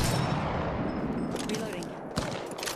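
Rapid video game gunfire keeps up a dense, loud fusillade, with automatic bursts and a sharper report late in the clip, and a voice briefly heard amid the shooting.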